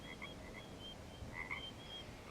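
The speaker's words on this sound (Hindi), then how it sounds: "बाहर से मेंढकों की आवाज आ रही है" Frogs croak repeatedly outside on a night after rain, a chorus of short, trilling calls rising and falling at moderate distance over a steady background hiss.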